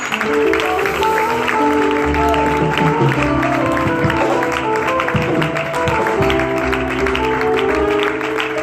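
Church congregation applauding, a dense wash of clapping and crowd voices mixed with a sustained musical tone throughout, fairly loud and continuous.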